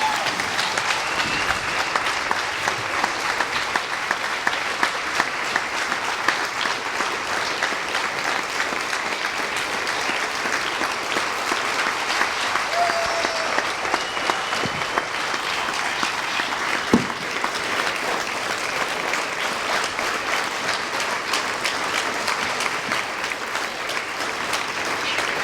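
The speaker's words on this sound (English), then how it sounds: "I want you guys to clap as loud as you can and give me a standing ovation for my friend Jason" Sustained applause from an audience giving a standing ovation at a community event, a dense, loud wash of many hands clapping continuously for about twenty-five seconds with scattered cheers mixed in.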